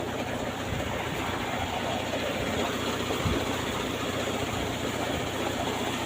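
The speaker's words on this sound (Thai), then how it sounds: "น้ำใสใสครับเครื่องสูบน้ำแบบใหม่" A new type of water pump engine runs steadily in Nong Khai province, a continuous low rumbling drone with broadband hiss, close and unchanging, with no talk over it.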